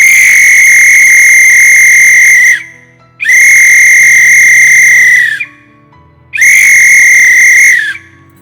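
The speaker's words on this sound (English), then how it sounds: "This little whistle saved Rose's life." A replica Titanic lifeboat whistle is blown three times, each blast a loud, steady, shrill tone lasting about two seconds, with short silent gaps between blasts.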